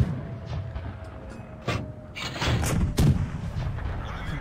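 Tank cannon shots in World of Tanks on the Prokhorovka map, with an M10 RBFM in play. Several sharp booms ring out, near and far, with the biggest blasts around the middle, over a low rumble of engines and no talk.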